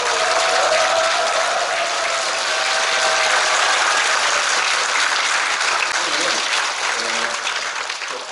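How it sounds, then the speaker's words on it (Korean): Loud, dense audience applause welcoming a speaker at a lecture, a continuous roar of many hands clapping close by that holds steady before tapering slightly at the end. "박수로 맞아주세요."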